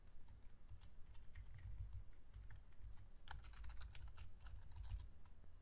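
Quiet, rapid keystrokes on a computer keyboard while code is typed, clicks clustering into a faster burst midway over a low background hum.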